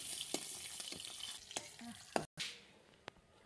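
Batch of bata fish frying in oil in a pan, a steady close sizzle with scattered utensil clicks and scrapes and one brief dropout.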